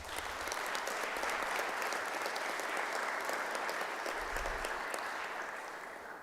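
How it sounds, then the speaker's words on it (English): A crowd at a City of Providence St. Patrick's Day celebration claps steadily in a full, even round of applause that holds for about six seconds before easing slightly at the end. "a huge round of applause for everything they have put in."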